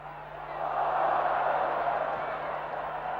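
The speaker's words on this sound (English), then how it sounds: "The crowd loving every minute of it" Stadium crowd roaring at a 1980 State of Origin rugby league match, a broad, sustained wash of cheering that swells and holds at a distance, with a faint steady hum underneath.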